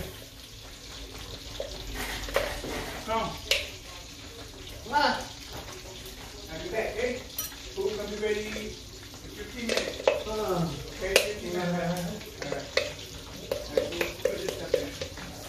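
Honey reducing in a pan for a chicken wing sauce, with clarified butter and garlic nearby, sizzles and bubbles softly in irregular bursts, while a voice talks over it throughout.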